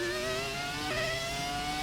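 A Ferrari F2004 Formula 1 car in the F1 2017 racing game gives a loud, steady, high-pitched engine whine that dips briefly midway, like a gear change, before climbing on.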